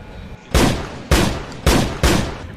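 Four loud gunshots from a six-bullet revolver crack out at roughly half-second intervals, each a sharp close blast with a short decaying tail.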